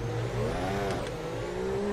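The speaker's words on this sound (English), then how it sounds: "Car bottoming out, you could hear the wheels just spinning up, but there was no traction" A Formula 1 car in a racing video game, bottoming out at Laguna Seca as its wheels spin up without traction, the engine note revving and sweeping in pitch, loud and continuous over about two seconds.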